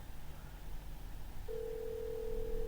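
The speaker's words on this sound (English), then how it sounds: "we got an old-fashioned dial tone" A steady old-fashioned telephone dial tone starts partway through and holds unbroken to the end over a low background hum.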